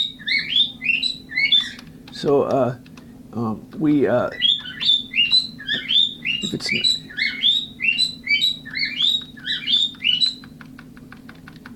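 A pet bird chirps in quick repeated bursts of bright high tweets filling most of the stretch, close and loud, while someone speaks briefly over it amid some low clicks.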